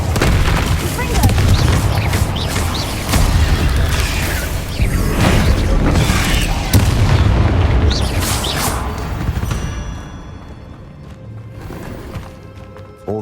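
Confringo fire spells bursting in Hogwarts Legacy, a series of heavy booming blasts with rumbling low-end over a dense game soundscape, loud and sustained, fading to quieter ambience near the end.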